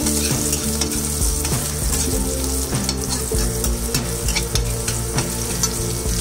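Garlic and vegetables stirred with a ladle in a hot pan make a loud, continuous sizzle broken by repeated scraping strokes in a steady rhythm, heard up close without talk.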